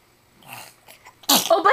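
A baby sneezes once, sharply and close, during a first try at eating food, after a stretch of faint, quiet sounds, with small vocal noises following right after.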